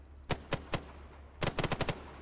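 A 20 mm vehicle-mounted cannon fires in the Arma military game: three spaced single shots, then a quick burst of about five rounds, loud and sharp over a low steady hum.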